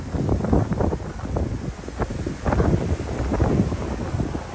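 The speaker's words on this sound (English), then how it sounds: "It's so cold, so windy." Strong, cold wind gusts across the microphone outdoors in Tokyo's Nihonbashi district. The rumble is loud and steady, with surges at the start and midway.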